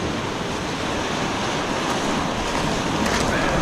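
Surf breaking where a river runs into the sea, a steady loud wash of waves with wind buffeting the microphone throughout, no voices.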